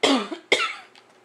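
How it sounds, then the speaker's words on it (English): A man with a lingering flu cough gives two sharp, close coughs about half a second apart, each trailing off, followed by a faint breathy tail. "I still have a cough from when I had the type of flu."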